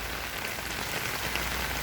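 Heavy rain pours down steadily and close by, a dense, continuous hiss of drops pounding the ground with no pauses and no voices.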